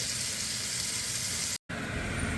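Cubanelle peppers and thawed frozen peppers sweat in a hot pan, giving a steady, bright sizzle that runs evenly throughout, broken by one very brief cutout.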